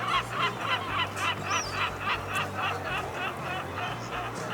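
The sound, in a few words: seagulls at fishing harbour in Essaouira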